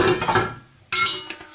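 An empty bowl handled while making homemade French baguettes: a couple of quick clinks and clatters close by, with a short quiet gap between them.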